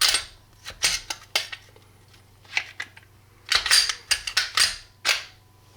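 Gen 4 Glock 30 pistol dry-firing, with a series of sharp, close metallic clicks from trigger breaks and resets, spaced irregularly across the stretch against a low steady hum.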